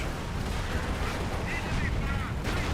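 A Company of Heroes artillery barrage rumbles as a continuous dense roar of distant booming impacts, with a voice speaking over it.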